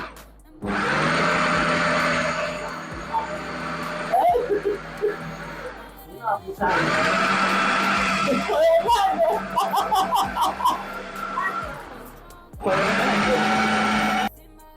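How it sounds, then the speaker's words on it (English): A food processor pounds cooked yam in bursts, with a loud steady motor whir in three long runs separated by short pauses. Clattering and knocking come through in the middle stretch. "I will just pound it with a food processor and enjoy my meal"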